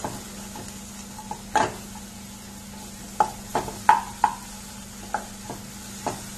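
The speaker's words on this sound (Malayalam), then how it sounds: "പൊടികളുടെ പച്ചമണം മാറുന്നത് വരയ്ക്കും ഒന്ന് ഇളക്കി കൊടുക്കാം." Spice powders fry in a pan for vegetable kurma as a spoon stirs them, giving soft scraping strokes and light taps against the pan over a quiet, steady background, close and fairly faint.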